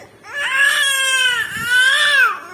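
A child wails in two long, drawn-out cries, loud and close, with a brief catch of breath between them.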